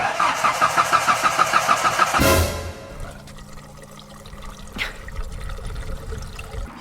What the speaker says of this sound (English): we're gonna try to start it again with just vodka Red Bull in the tank